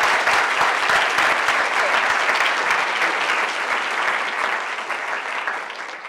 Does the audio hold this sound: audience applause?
yes